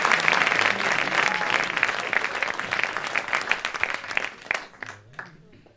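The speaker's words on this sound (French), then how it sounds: "vous pouvez l'applaudir bien fort" Audience applause for a young pianist about to play a piece at a concert, a dense, steady wash of many hands clapping that thins and fades toward the end.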